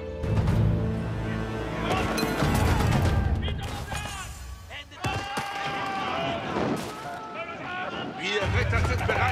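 Gunfire from a medieval real-time strategy battle in Age of Empires IV, dense volleys and impacts crackling continuously amid game music and unit voices, with a brief dip midway before the clatter resumes.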